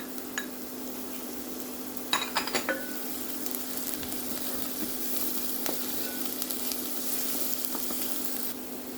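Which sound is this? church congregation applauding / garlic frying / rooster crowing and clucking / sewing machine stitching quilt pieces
garlic frying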